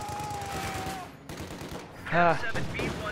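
Rifle and machine-gun fire in a WWII strategy game as German grenadiers engage American riflemen, a rattling stream of shots under a commentator's voice, with a sharper burst near the end.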